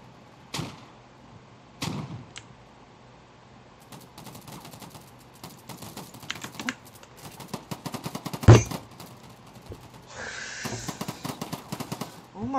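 Gunfire in the video game Polygon: scattered sharp shots and short rapid bursts of varying loudness across the clip, some near and loud, with one especially heavy blast midway, mixed with other game sounds.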